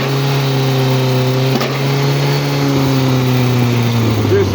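A piling machine engine revs steadily and loud, a sustained droning hum that rises slightly in pitch as the pile is tapped into place, with one sharp knock partway through.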